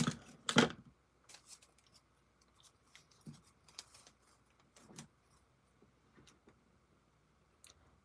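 Scissors snip through paper for card making, a few sharp cuts near the start followed by quieter scattered rustles and ticks in an otherwise quiet room.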